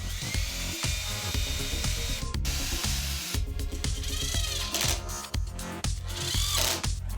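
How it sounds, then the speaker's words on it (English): Power drill boring countersunk holes and driving screws into a wooden clamp for a shop vac boom arm, a steady whine in repeated bursts with short pauses between passes, close and loud. "so I'm putting in some countersunk holes and some screws"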